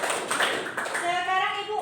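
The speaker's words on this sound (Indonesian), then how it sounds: "Tepuk tangan dulu kawan." Schoolchildren clap their hands together in a classroom, a dense burst of hand claps that gives way to children's voices within about two seconds.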